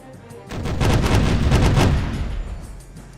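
A ship's cannon broadside fires in Caribbean Legend, a rolling rapid string of heavy booms swelling loud and close, then fading into rumbling echo.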